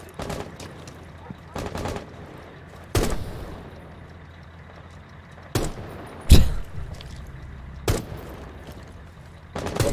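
Gunfire in the tactical shooter Rainbow Six Siege during a bomb-defuse round, with several separate sharp shots and short bursts spread across the stretch over a low background hum.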